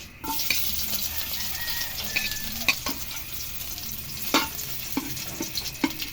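Garlic frying in a pan, giving a continuous hot sizzle with intermittent scrapes and clicks of a spatula stirring, close and fairly loud with no talking.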